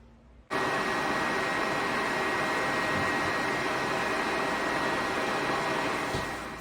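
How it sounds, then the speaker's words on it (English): A hooded hair dryer switches on abruptly and runs with a loud, steady whooshing roar of blown air, unchanging for several seconds right beside the listener. "I did sit under the dryer for 15 minutes"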